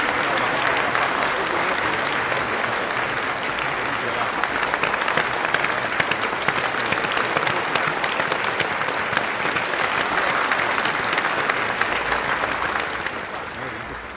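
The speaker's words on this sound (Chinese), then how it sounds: "让我们以热烈的掌声恭喜" Warm applause from an audience at an auction event, a dense sustained clapping of many hands that swells slightly and then tapers off near the end.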